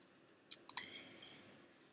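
Sharp computer mouse clicks in a quiet room: a quick cluster of three close clicks, crisp and near, then faint ticks afterward.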